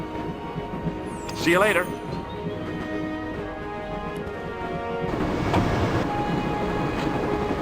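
A train rolls on in the Broken Sword adventure game, a continuous rumbling clatter of rail cars, with a short spoken line early on and a sharp chirping sound before the rumble grows louder.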